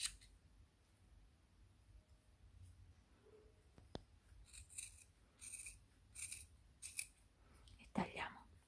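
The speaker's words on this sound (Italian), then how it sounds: "Ok, iniziamo a tagliare." Scissors snip through yarn while a knitted pom pom for a hat is trimmed, giving a series of short, close, crisp cuts in irregular bursts, with light rustling between them and quiet surroundings.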